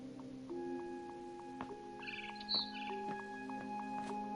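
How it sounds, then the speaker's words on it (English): Barn swallow chirps from the video game What Remains of Edith Finch: a quiet run of short, high tweets and trills over a faint steady tonal background, fairly close and without any talk. "Then I heard chirping outside my window."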